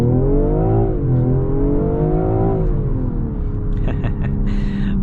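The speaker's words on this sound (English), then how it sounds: "all I'm gonna do is brake boost it" 2022 BMW M340i pulling hard after a brake-boost launch, the engine note climbing loud and close, dipping once at a gear change before rising steadily again, with a faint whine over the drone.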